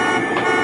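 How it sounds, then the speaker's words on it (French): Car horns toot amid steady road traffic in the crowded streets of Pikine, east of Dakar, Senegal; a brief, continuous wash of engine noise and honking with no one speaking. "Ces rues bourdonnent sous le concert incessant des klaxons"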